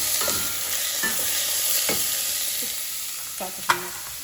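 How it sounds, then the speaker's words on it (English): Celery and diced bacon sautéing in a pan for minestrone, a steady hiss of frying with a spoon stirring and tapping through it, close and continuous, a sharper clack near the end. "Just to saute them,"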